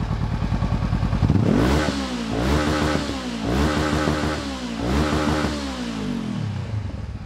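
A Honda CB500X motorcycle engine, close and loud, is blipped repeatedly. The revs surge and fall in about four rhythmic waves over a rumbling idle.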